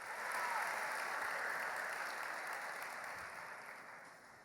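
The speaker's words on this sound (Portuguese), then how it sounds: "Aplauda esse Deus que merece a nossa honra." A church congregation applauds during an evening worship service sermon, a loud dense wash of clapping that peaks early and slowly tapers off over several seconds, with no talk over it.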